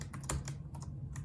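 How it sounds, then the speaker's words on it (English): Rapid clicking of keys on a Raspberry Pi 400 keyboard, close and steady, with no voices. "I'm gonna test out the keyboard."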